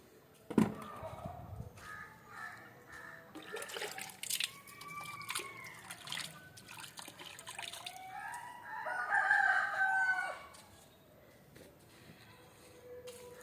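A rooster crows loudly several times amid clucking free-range country chickens, with scattered splashing and clatter nearby; no talking.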